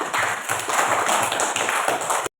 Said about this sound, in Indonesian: Coba berikan tepuk tangan untuk kita semua.